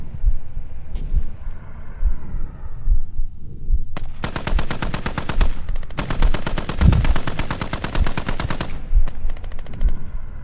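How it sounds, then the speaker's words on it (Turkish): Armored personnel carrier machine gun fire in the military shooter game Squad, sounding as long, loud sustained bursts of rapid automatic shots, close and dominant, with a short pause between the two main volleys. "APC geldi, vurdu beni ya."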